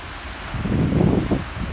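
Sea waves wash onto a sandy beach under buffeting wind, a single swell rising and falling over a couple of seconds with rumbling wind noise on the microphone.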